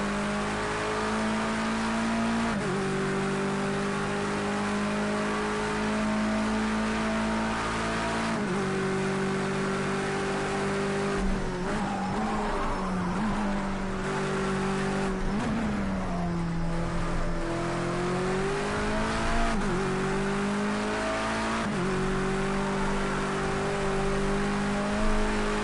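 A race car engine in the racing game Project Cars 2 revs steadily, dips and rises as the car brakes and accelerates through a chicane with some oversteer, then holds a loud, continuous drone, with no talk.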